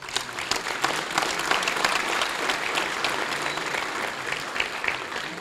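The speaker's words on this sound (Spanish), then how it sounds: "Un fuerte aplauso" Strong audience applause at an event honoring Indigenous budget management, steady dense clapping from a crowd sustained throughout.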